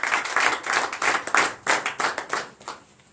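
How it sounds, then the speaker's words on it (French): Clapping from a church congregation at a night deliverance service rises in quick, rhythmic bursts of many hands, fairly close and lively before fading near the end, with no voices over it. "Donnez encore l'acclamation."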